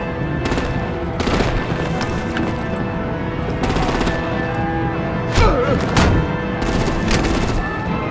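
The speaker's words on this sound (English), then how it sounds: "Break out the artillery and disable their vehicles!" Bursts of machine-gun fire and heavier booming shots from Batman: The Telltale Series rattle out in repeated volleys over a dense, steady combat din.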